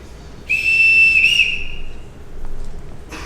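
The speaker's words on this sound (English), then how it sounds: "Everyone in this house answers to a whistle." A household summoning whistle gives one loud, shrill, steady blast lasting about a second, tapering off, in an indoor room with no voices.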